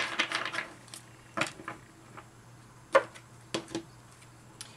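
Tarot cards are shuffled by hand, producing crisp, separate snaps and flicks spread irregularly across several seconds, with a denser flurry at the start, close and fairly quiet, with no talking.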